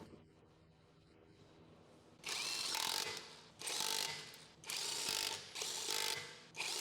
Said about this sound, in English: Hand start your lug nuts and use a 19mm socket to run them on